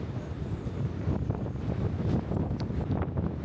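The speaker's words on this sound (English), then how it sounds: "Just have to avoid that wind." Strong wind on the deck of the Sky Princess cruise ship at sea buffets the microphone with a constant low rumble and gusty roar, occasional faint knocks underneath.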